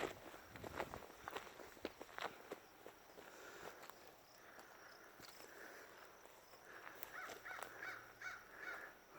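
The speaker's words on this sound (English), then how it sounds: "Got some crow action." A crow cawing in a forest, harsh calls repeated at a distance amid crunching footsteps on the forest floor and faint insect chirping in the background.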